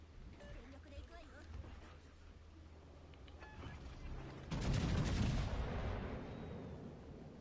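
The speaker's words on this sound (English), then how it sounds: "Look at the salvo, man." A battleship's main guns fire a salvo in World of Warships Legends, a loud, broad booming burst about midway that rumbles and decays over a couple of seconds, following steady engine and ambient game noise, with a voice talking throughout.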